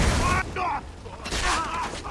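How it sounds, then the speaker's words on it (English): Gunfire in Far Cry 3, with a few muffled booming bursts of shots, moderately loud, mixed with a speaking voice. "Can you stop shooting at me?"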